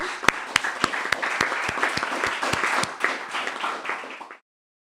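Audience at a community event on empowering children applauding guests, a sustained round of many hands clapping with distinct sharp claps, fading out after about four seconds.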